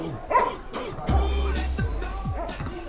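A dog yaps a few times at a Volyn Cup amateur football match, the barks short and fairly close, mixed with low rumbling wind or handling noise and faint background voices.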